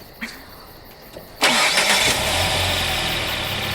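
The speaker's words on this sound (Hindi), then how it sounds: "क्या तुम इंजन चालू कर सकती हो?" A car engine cranks and catches after a brief quiet pause, then settles into a loud, steady idle, with faint thumps before it fires.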